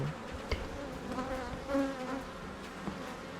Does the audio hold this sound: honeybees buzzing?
yes